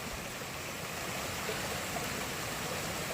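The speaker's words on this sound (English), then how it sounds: "Well, not a little bit, this is a bigger stream." A fairly large mountain stream along a hiking trail rushes steadily, a close, even broadband wash of flowing water with no voices.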